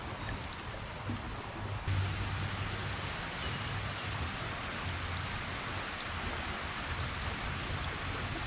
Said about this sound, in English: Well, here comes the rain again.